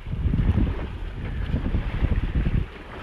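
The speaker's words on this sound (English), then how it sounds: "Sailing away from Lanai." A sailboat under way in open ocean off Lanai, with strong wind buffeting the microphone and water rushing along the hull in a loud, continuous roar.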